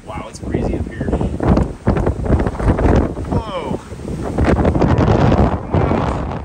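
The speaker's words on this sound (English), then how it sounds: "Wow, it's breezy up here." Gusty wind buffets the microphone on a cold, snowy mountaintop along the Appalachian Trail, a steady rushing roar that swells and eases while a person talks over it.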